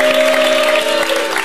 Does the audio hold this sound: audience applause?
yes